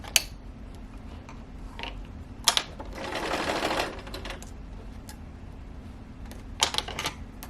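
A sewing machine stitches a sofa slipcover in one steady burst of about a second mid-clip, surrounded by sparse handling clicks and taps in a quiet room.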